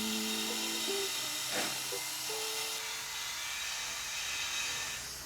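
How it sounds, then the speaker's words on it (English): A wire wheel scours an engine block and upper oil pan during a rear main seal job on a VQ35DE engine, giving a steady, fairly quiet hissing whir with a brief harsher scrape partway through. "We're gonna go ahead and wire wheel our upper pan as well as our block"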